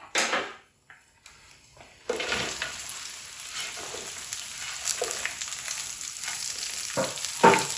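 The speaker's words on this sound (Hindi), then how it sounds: "अब यहाँ पे मैं भिंडियाँ डाल दूँगी" Raw okra (bhindi) hitting a hot oiled pan in a home kitchen, a brief clatter and pause then a steady close sizzle with occasional stirring scrapes and a louder crackle at the end.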